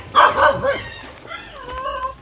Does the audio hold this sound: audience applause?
no